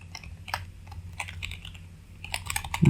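Keys are typed on a computer keyboard while writing a shell script, sounding as scattered, close clicks and taps in a quick, uneven rhythm, ending in a louder thud.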